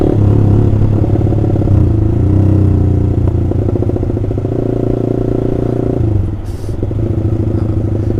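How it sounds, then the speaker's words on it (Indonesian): Honda CBR150R with an Austin Racing aftermarket exhaust idling and revving, a loud, close, raspy engine note that holds steady, dips briefly and picks up again, with no talk. "Dengerin nih suara knalpot."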